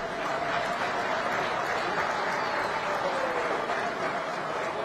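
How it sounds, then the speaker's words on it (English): Audience at a summit of heads of state and government applauds continuously, a dense, loud wash of clapping that is sustained throughout, with a voice faintly audible beneath it. "A round of applause, ladies and gentlemen."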